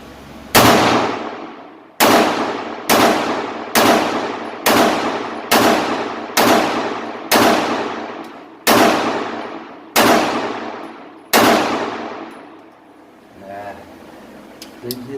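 Eleven pistol shots from a Taurus TH9C fired at a target, loud and close, in a steady, evenly spaced string with a short ringing decay after each, followed by quiet handling sounds.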